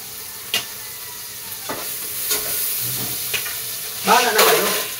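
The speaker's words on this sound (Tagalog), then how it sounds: "Saka natin igigisa." Food sautéing in a pan, stirred now and then, with a steady sizzle and hiss throughout and a few sharper scraping taps of the utensil, growing briefly louder near the end.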